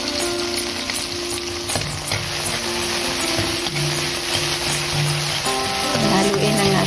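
Garlic and tomatoes frying in a pan for a mung bean stew, a loud steady sizzle with stirring scrapes from a spoon, close and continuous, over faint background music.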